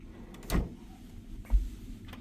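Cabin closet drawers on a Carnival Celebration cruise ship slide and thud shut twice, a short scraping knock followed about a second later by a second dull bump, close and fairly quiet.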